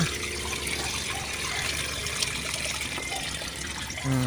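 Water pours steadily from a container into a cooking pot, a continuous close trickle and splash with no speech over it.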